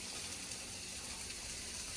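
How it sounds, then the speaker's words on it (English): Heavy whipping cream is poured into a pot roast, giving a steady, even liquid rush that lasts about two seconds with no talking. "we'll go ahead and pour that in there now"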